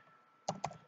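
Two quick clicks of computer keyboard keys, close and soft, following a quiet moment.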